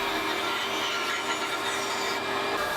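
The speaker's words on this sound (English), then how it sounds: "Now I'll just trim off the excess material on the bandsaw," Bandsaw trimming excess material from a wooden center finder blank, a steady loud broadband buzz of blade cutting wood with a constant whine, running continuously throughout with no talking.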